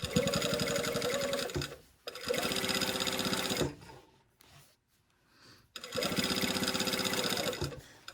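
A sewing machine stitches around the curved neckline of a coat in three long, steady runs, pausing briefly between them with quiet gaps, close and loud with no talk.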